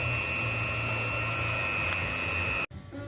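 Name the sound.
welding a car bumper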